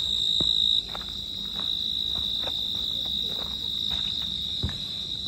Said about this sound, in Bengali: ঝিঝি পোকার শব্দ, স্পেশাল এফেক্ট না